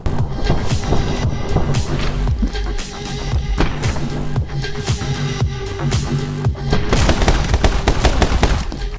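Rapid gunfire from two guns fires in a side-scrolling shooter video game, dense bursts of shots layered over a driving game soundtrack, loud and continuous with no voices.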